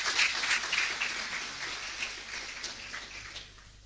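Sustained crowd clapping greets a panel member at a university lecture in Angola, a dense patter of many hands that starts loud and gradually thins and fades over a few seconds.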